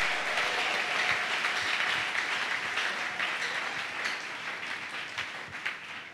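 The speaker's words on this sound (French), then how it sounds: "Il faut acclamer encore très fort." Sustained applause from a large crowd at a general assembly in Kinshasa, a dense wash of clapping that holds steady and fades slightly toward the end.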